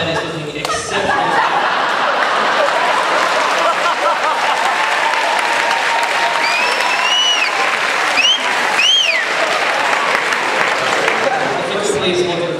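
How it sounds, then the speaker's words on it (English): A school assembly audience applauds loudly and steadily from start to finish, a dense wash of clapping with some chuckles and crowd murmur mixed in. "If you could please hold your applause at the end."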